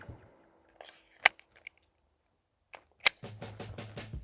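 An Umarex Glock 17 Gen 4 airsoft pistol fires on green gas at a target 20 meters away, giving two sharp, separate cracks a couple of seconds apart amid near silence, followed by a low humming sound.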